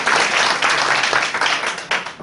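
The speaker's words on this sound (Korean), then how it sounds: "박수 한번 합시다." Church congregation applauding at a summer revival service in Chiang Mai, a dense, steady wash of clapping held for about two seconds.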